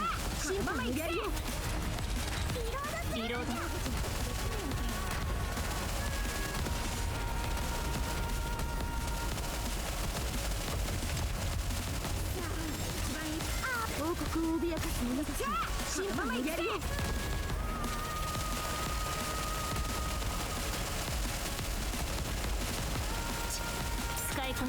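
Rapid automatic gunfire from Goddess of Victory NIKKE during an Interception boss fight, dense and continuous throughout with explosive bursts, under game music and occasional talk.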